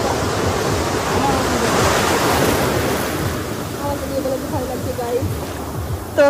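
Steady broadband wash of sea waves rolling onto a beach, continuous and fairly loud with wind buffeting the microphone, and faint voices in the background near the end.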